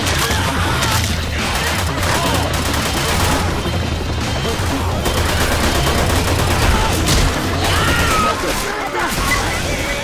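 Dense gunfire fills a Left 4 Dead 2 custom campaign on a highway map, with rapid overlapping shots and bursts that run loud and continuous, and game chatter mixes in among them.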